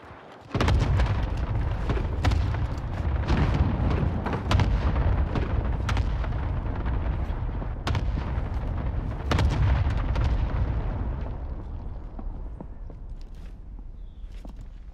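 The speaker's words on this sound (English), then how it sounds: "Cluster strike away." Cluster strike artillery in a video game lands as a rapid string of heavy booms and blasts, dense and loud at first, then thinning out and fading over the last few seconds.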